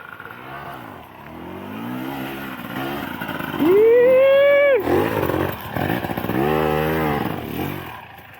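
A dirt bike at the Kahuku motocross track, its engine revving and rising in pitch, with a loud rev in the middle and other bikes droning nearby.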